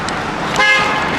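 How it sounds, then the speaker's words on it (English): Car horn on a city street gives one short, bright honk close by, standing out over steady traffic noise. "who's honking the horn?"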